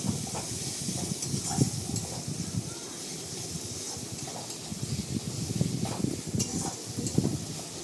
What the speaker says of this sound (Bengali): আমরা আবার এটাকে ভালো করে কষিয়ে নেব নেড়ে চেড়ে।